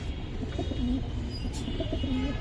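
Pigeons cooing inside a cage during a Bangladeshi pigeon-keeping visit, low repeated coos in a steady murmur against background room noise, no talking.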